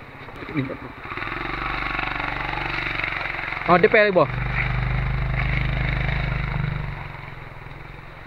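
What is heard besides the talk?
off-road motorcycle riding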